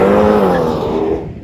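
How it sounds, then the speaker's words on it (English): A BMW M235i Gran Coupe with a turbocharged 2-liter four-cylinder accelerates hard with jumpy front-wheel spin. A loud, close engine roar carries the sound and fades over a brief burst. "Hard acceleration can even induce jumpy front-wheel spin."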